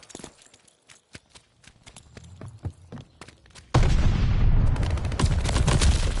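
Gunfire erupts around a contested hardpoint in a Call of Duty match, starting as scattered close single shots and then breaking into a loud, dense burst of sustained fire that runs to the end.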